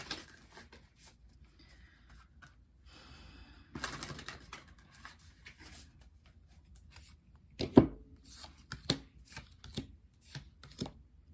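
Tarot cards are shuffled in quiet, soft riffling bursts, with a few sharper card snaps and taps scattered through, close by with no talking.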